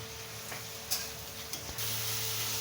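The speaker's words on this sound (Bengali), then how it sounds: "দেখো দেখছো একটু ঘি দিয়ে দিলাম।" Ghee added to mango chutney cooking in a pan on a gas stove gives a steady loud sizzle and hiss, broken by a few sharp clicks and taps of a spoon against the pan.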